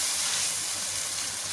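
Mutton sizzles in ghee and spiced oil in a karahi, a continuous bright hiss of frying that holds steady and fairly loud throughout with no voices.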